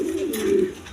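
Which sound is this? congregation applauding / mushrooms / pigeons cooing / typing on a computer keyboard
pigeons cooing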